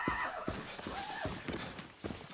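A horse in Far Cry 6 neighs loudly in a long, shaky whinny, with hoofbeats thudding in a loose rhythm underneath.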